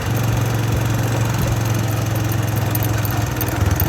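A motorbike engine runs close by with a steady, throbbing low idle-like rumble and slight mechanical rattle, continuous and loud throughout with no talking.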